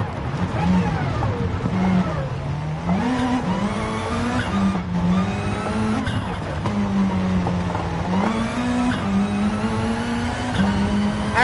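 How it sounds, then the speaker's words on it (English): A video game rally car engine revs up and down repeatedly while shifting gears, with whistling turbo and spooling sounds over the engine drone; a voice is faintly present. "You hear a turbo?"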